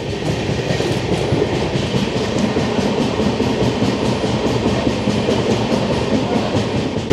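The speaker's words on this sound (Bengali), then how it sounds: "আমাদের ট্রেন এখন ক্রস করছে চম্পাশাড়ির ফরেস্ট।" Kanchankanya Express passenger train running on rails through Chapramari forest near Kalimpong, a steady loud rumble with rhythmic clickety-clack of wheels over rail joints, heard from on board and continuous throughout.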